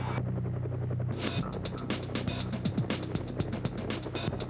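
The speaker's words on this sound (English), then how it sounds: "The chopper usually takes on the role of a high-altitude observer" A police helicopter flies overhead, its rotor thudding in a steady rapid beat with broad hiss, loud and continuous throughout with no talk.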